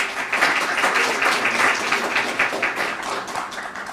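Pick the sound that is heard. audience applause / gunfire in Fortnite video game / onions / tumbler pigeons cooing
audience applause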